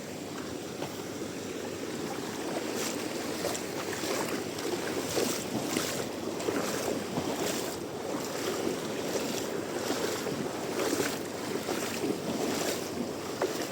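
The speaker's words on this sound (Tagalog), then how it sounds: "Oh, lakas ng agos." Strong floodwater rushes through a flooded rice field in a steady, loud, broadband roar with some wind buffeting the microphone, and no talk over it.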